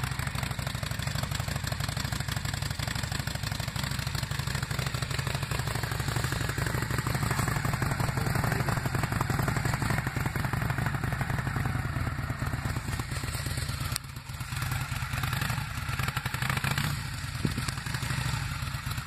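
A Honda Shadow 600cc motorcycle engine idles steadily and close by, a continuous low rumble with a faint mechanical clatter and no talking.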